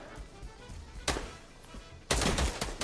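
Gunfire in Fortnite Battle Royale, a faint background of scattered shots followed by two sharp, louder bursts of rapid fire, the last one dense and sustained.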